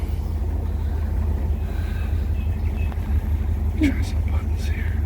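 A 1957 Ford Thunderbird driving, its engine giving a steady low rumble throughout with faint road noise and a brief higher squeal near the end.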